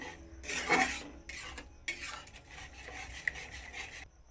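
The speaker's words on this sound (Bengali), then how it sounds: "চিনি দিয়ে আবার নাড়িয়ে নেব চিনি গড়ে যাওয়া পর্যন্ত" Carrot halwa with sugar stirred in a pan until the sugar melts: a spoon scrapes and rubs against the metal in short strokes, up close and fairly quiet, with no voices.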